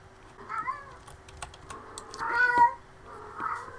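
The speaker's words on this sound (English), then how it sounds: "that's my cat screaming at the top of her fucking lungs" A pet cat meows loudly and repeatedly close by, its insistent cries mixed with keyboard typing.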